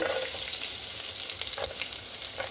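Chopped garlic fries in reused oil in a pan, with a continuous close sizzle and faint stirring crackles throughout and no speech.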